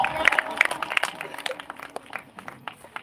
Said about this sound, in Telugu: నమ్మితే గట్టిగా చప్పట్లు కొట్టి